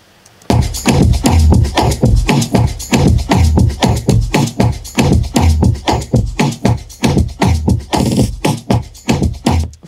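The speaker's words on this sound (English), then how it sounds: "Let me unmute everything from the drums." A full drum mix for an Afrobeats-style production, with shakers among the percussion, plays loud and steady, its dense rhythmic hits pulsing evenly through about ten seconds with no voices.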